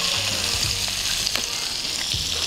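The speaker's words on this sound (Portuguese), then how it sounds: "E a gente vai regar a carne com essa manteiga, tá?" Entrecôte steaks sizzle in a frying pan while being basted with melted butter, garlic and thyme: a dense, continuous crackling hiss with small pops and spatters, close up and with no talking.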